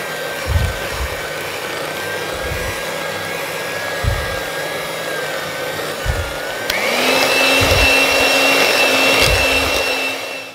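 An electric mixer whisks eggs and flour into Victoria sandwich cake batter with a steady motor whine. The whine rises in pitch and loudness partway through as the speed increases, with soft bowl knocks.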